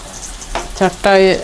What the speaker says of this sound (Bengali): অয়েল গরম হয়ে গেছে, তো 2 পিস ঢেলে দিয়ে দিলাম।